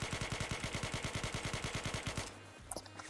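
An M4 rifle fires in a video game, a rapid steady automatic burst of about twenty-five evenly spaced shots lasting two seconds, then stopping with faint clicks after.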